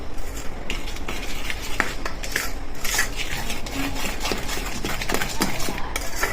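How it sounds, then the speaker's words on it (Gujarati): Room-temperature milk for saffron pistachio ice cream is stirred in a vessel, with continuous close clinking and scraping of a spoon against the container, loud and busy, and no talk. "રૂમ ટેમ્પરેચર ઉપર દૂધ છે એ આપણે લઈ લેશું. અને થોડું ચલાવી લેશું"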